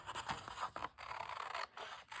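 Scissors cut through a page of a book, producing close, dry scratching and snipping strokes in short bursts with brief pauses between them.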